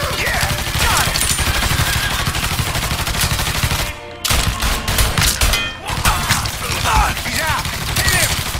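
Sustained gunfire from the Mafia III video game, dense bursts of shots continuing almost nonstop, with a brief drop near the middle before heavy firing resumes at close range.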